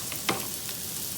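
Asparagus fries in a pan while being stirred, a soft continuous sizzle with one short scraping stir, close and fairly quiet, with no voices.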